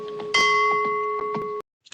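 Spanish bells from the spaghetti western soundtrack of A Fistful of Dollars, a bright sustained ringing tone struck once and held about a second before cutting off abruptly, followed by a faint short echo.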